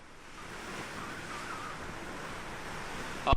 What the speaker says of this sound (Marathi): आम्हाला वाऱ्याचा आवाज इथपर्यंत अगदी ऐकू येऊ शकतोय